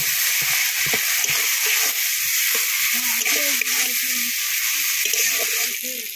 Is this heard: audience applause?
no